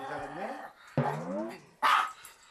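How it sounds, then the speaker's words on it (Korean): A fearful, aggressive dog confined in a small pen barks at a stranger: three loud, close barks with whining, yelping tones, spaced about a second apart. "저한테 짖으면서 저 무서우니까 똑바로 못 쳐다보네"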